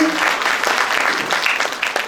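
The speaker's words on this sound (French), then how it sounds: "je vous demande d'applaudir" Audience applause at the opening session of an international colloquium on preschool education: a dense, steady wash of many hands clapping throughout, with no voices on top.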